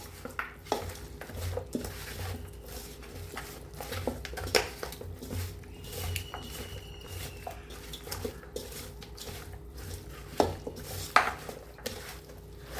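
Marinated chicken being mixed with masala in a bowl for chicken mandi: soft wet squelches and scattered clinks and knocks against the bowl, irregular and fairly close, without any talking.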